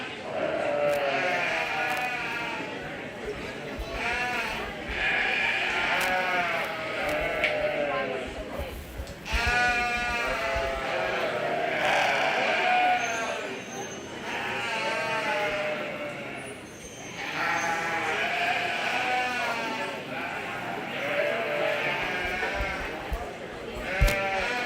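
Sheep and lambs bleat over and over at a Greene County Fair 4H/FFA sheep show. The bleats are close and steady, with overlapping calls throughout, heard under ongoing talk.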